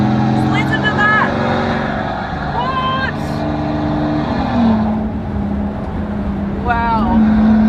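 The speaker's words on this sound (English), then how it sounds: "A one-off car in the world down a private airport strip. Just listen to that." A one-off Maybach Exelero car driving down a private airport strip, its engine a loud, sustained drone with rising tonal sweeps as it accelerates, while someone talks over it.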